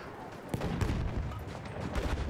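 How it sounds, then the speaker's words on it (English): Battlefield 1 gunfire pops in quick repeated shots against a dense battle din, close and fairly loud throughout. "he's already shooting me"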